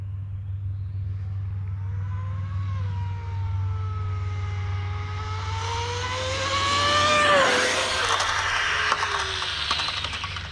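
A 30-horsepower dual-motor RC car drives past with a high electric whine that climbs in pitch, then swells into a loud close rush over a steady low hum.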